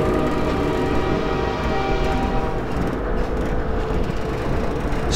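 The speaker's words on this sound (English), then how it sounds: "Start on a train once more." A train rides along steadily in Half-Life 2, a continuous loud rumble and mechanical drone with faint rhythmic rail clatter, no voices.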